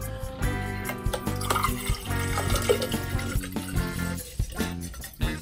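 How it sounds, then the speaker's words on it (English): Bottled water glugs and splashes into a plastic container on a table, a busy, uneven liquid pour with small knocks and clatter throughout, close and moderately loud. "Let's take a bottle of water and put in it."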